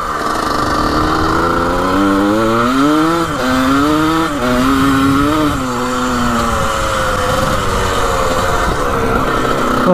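The engine of a rare 1980 vintage racing dirt bike runs loud and close with a rattly, buzzing tone that rises and falls as the throttle is worked, and no voices.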